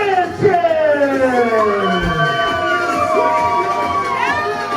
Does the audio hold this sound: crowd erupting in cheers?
yes